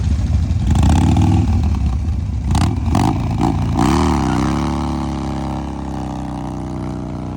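A Harley Sportster motorcycle on a test ride, its engine roaring loud and close, revving hard through the first seconds and then settling into a steady, slowly fading drone as it pulls away.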